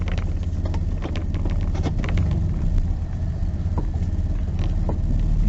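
A car idling and creeping slowly while being parked at a lakeside spot, a low steady engine rumble with crunching, rustling noises over it, close and continuous.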